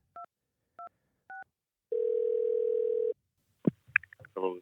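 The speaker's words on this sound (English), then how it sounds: "I'm just going to try to get him on the line right now with the phone number that he gave me" A telephone being dialed to call someone: three short key tones, then a steady tone lasting about a second, followed by a voice beginning to speak.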